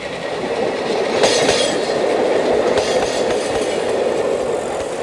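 An SNCF X 4300/4500 Caravelle diesel railcar runs along a double-track freight line near Lyon, with a steady loud rolling roar, engine drone and a couple of rhythmic rail-joint clacks.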